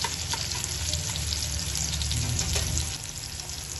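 Dal and eggs frying in a pan, a steady close sizzle with faint scraping stirs running throughout, easing slightly near the end; no one speaks.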